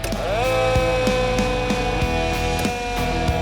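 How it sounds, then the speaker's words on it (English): A steady mechanical siren wails continuously, its pitch sliding up and then holding, with a faint regular clicking running underneath. "and that's the siren"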